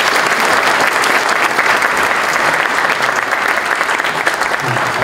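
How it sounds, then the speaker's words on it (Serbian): Sustained applause from a conference audience for a Japanese business alliance executive, dense steady clapping filling the room at full loudness with no pauses. "molim vas jedan veliki aplauz za nju"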